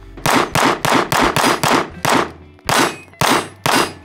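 A Smith & Wesson M&P 2.0 pistol fires about nine loud, close shots in a quick, fairly even string, with a brief pause before the last three and ringing decay after each crack.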